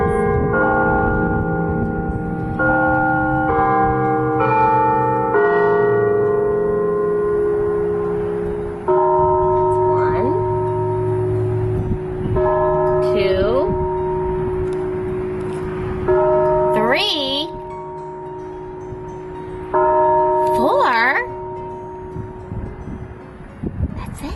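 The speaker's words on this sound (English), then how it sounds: "oh, there's our church bells." Church bells ring out in a slow sequence of clear, sustained tolls, loud and resonant, with wind noise in the background.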